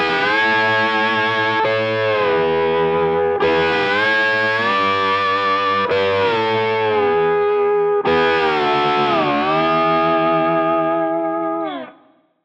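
Electric slide guitar in standard tuning playing licks that switch between an angled and a straight slide, giving sustained, gliding pedal-steel-like bends with a distorted, effected tone; loud and alone, in several phrases before fading out.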